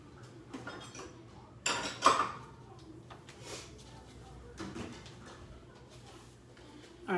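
A lid goes onto a cooking pot with a sharp metallic clank and rattle, up close. A few lighter clinks of kitchenware follow, and a voice speaks around the sounds.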